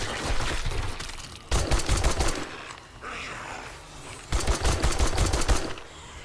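Automatic gunfire in the console game 7 Days to Die while fighting a randomized horde. Three loud, close bursts of rapid shots come in about a second apart, with brief lulls between them.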